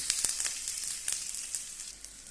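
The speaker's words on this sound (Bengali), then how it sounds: "আমার শাক ভাজির তেলটা গরম হয়ে গেছে, আমি রসুনটা দিয়ে নিতেছি" Chopped garlic hits hot oil in a pan before greens are fried, giving a bright, steady sizzle with small crackling pops, close and loud, with no talk.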